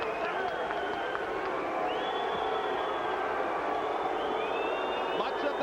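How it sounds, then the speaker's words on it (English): A boxing arena crowd boos Pernell Whitaker as he stands on the ring ropes after his fight with Julio Cesar Vasquez, a steady, distant roar of many voices with whistles rising over it. "Much of the crowd booing Pernell as he stands on the ring ropes in the corner in his characteristic victory gesture."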